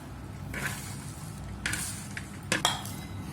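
A ladle stirs oil slowly through onion mango pickle in a home kitchen, giving soft wet scraping and squishing with a few sharp clinks of metal against the pot, close and fairly quiet.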